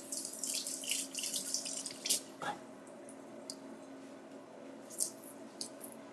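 A big bunch of cilantro rinsed under a running kitchen tap, with a steady hiss of flowing water and splashy bursts as the leaves pass through the stream, fairly close, with no talking.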